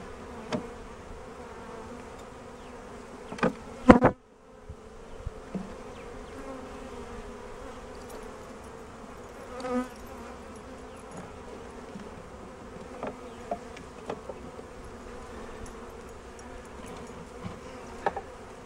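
A dense, steady buzz of many honey bees from a package being installed into a hive hums throughout, with a brief louder rustle early on and occasional soft knocks.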